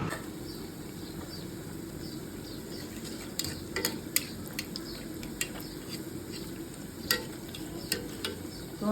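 Egg chops coated in gram flour batter frying in hot oil, a steady close sizzle with occasional sharp clinks and scrapes of a utensil against the pan, no voices.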